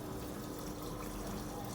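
Water rushes steadily into a Samsung Activewash+ washing machine filling on its quick wash cycle, a constant close gushing hiss with a low pump-like rumble underneath.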